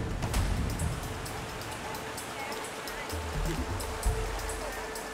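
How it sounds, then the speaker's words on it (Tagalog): A swollen river rushes with a strong current, a broad, constant roar of flowing water close by, with faint low thumps underneath. "Abot hita ang tubig sa parting ito ng ilog. Delikadong matangay ng malakas na agos."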